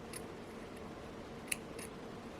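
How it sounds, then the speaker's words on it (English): Scissors snip the end of a thread while handmade jewelry is being made: quiet, close snips, one sharper and more distinct than the rest, over a faint steady room hum. "I will cut with the scissors"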